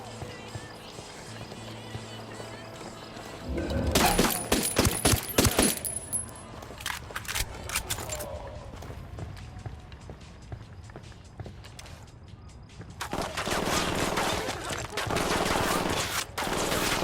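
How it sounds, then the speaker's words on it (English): Gunfire in the video game Ghost Recon Wildlands: a loud burst of shots near the start, then scattered bursts and action sounds, with a heavier stretch toward the end. "Opening fire."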